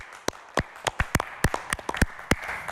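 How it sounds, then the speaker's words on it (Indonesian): Studio audience on a health talk show giving a guest a round of applause, heard as a sparse run of distinct, sharp claps, about a dozen spaced irregularly over a soft background hiss. "Boleh tepuk tangan sekali lagi"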